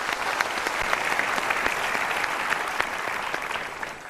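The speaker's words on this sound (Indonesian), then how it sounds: "kita berikan tepuk tangan untuk 3 teman kita ini" A studio audience on a motivational talk show applauds three guests, giving a steady, dense patter of clapping at moderate loudness for several seconds.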